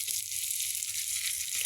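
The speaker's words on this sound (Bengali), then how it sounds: "এই কুচো মাছটা ছিল, এটা দিয়ে দিলাম। এটাকে আবার নাড়বো" Chopped onions and small fish fry in hot oil while being stirred, giving a steady, close, loud sizzle that runs unbroken with no voices.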